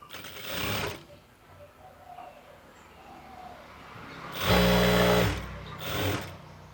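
A sewing machine stitches a seam on an XXL chudi pant in bursts: a short run, a quieter stretch, then a longer loud whirring run and a final short burst, all close with no voices.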